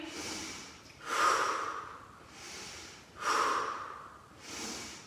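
Slow, deliberate breaths during an intermediate Pilates exercise, two strong audible exhales through the nose with softer inhales between, close to the microphone and otherwise quiet.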